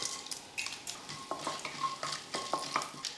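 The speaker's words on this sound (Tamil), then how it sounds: "எண்ணெய் காஞ்சதுமே கொஞ்சம் கடுகுலுந்து கூடவே கொஞ்சம் கடலைப்பருப்பு" Steady crackling sizzle of mustard seeds and chana dal frying in hot oil for peanut chutney, with occasional sharper pops and faint stirring scrapes, close by and moderately quiet.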